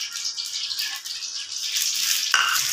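Masala-coated chicken pakora pieces frying in hot oil, a close, steady crackling sizzle that flares briefly louder near the end, with no talk.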